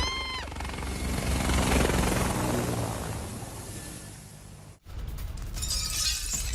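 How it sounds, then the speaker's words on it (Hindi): A Ukrainian Mi-24 helicopter taking off, a loud, continuous roar of rotor and turbine that swells and holds, breaks off abruptly near the end, then resumes more harshly. "यूक्रेनी Mi-24 हेलीकॉप्टर ने भरी है उड़ान"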